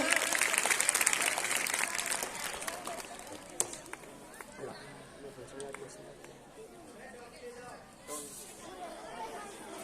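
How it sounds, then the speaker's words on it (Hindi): Loud clapping bursts from a school audience at a National Mathematics Day event, then thins into scattered claps and chatter as voices take over. "अबे के लिए एक बार जोर से तालियां।"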